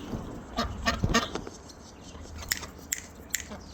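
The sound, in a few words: chickens running and clucking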